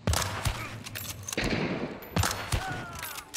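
Gunshots in the video game Hunt: Showdown: sharp, loud cracks, one near the start, another around 1.4 seconds and a third after 2 seconds. Each trails into a rumbling echo over a low background hum.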